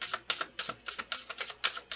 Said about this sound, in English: Let me just shuffle these out a little bit.